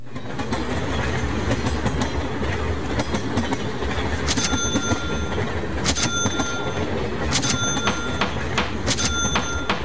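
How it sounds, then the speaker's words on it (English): Rolling freight train in a CSX advertisement, a steady rumbling clatter of wagons on rails with sharp metallic clicks and squeals, continuous and fairly close, with no talking. "CSX trains are the most cost-efficient way to move goods to market."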